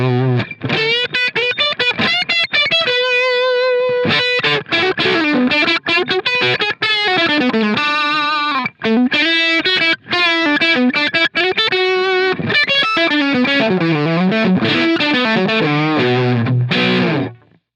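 An electric guitar played through the Line 6 Helix Brit Trem Normal amp model rings out with a driven, distorted tone, loud chords and sustained notes played alone without talking.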